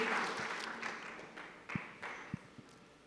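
Applause from a church congregation, a soft broadband patter that fades over a few seconds with a few louder isolated claps near the end.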